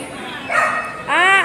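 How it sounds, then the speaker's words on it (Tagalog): A dog gives a couple of short, high yips, close by, over a steady background hum. "Ang aso pala to."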